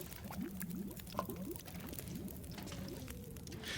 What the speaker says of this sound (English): why am I hearing bubbling?